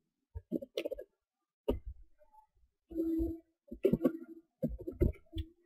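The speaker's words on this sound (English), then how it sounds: "I'm going to type S name, S underscore name" Typing on a computer keyboard in short irregular bursts of clicking keystrokes, separated by pauses, fairly quiet and close.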